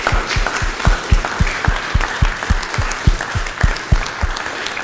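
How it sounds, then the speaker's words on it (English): A lecture audience in Scandinavia applauds after a talk on war and peace, with loud, steady clapping from a fairly large crowd close by, individual claps standing out, continuous with no speech. "please join me in a big round of applause for Professor Bear Braumoeller."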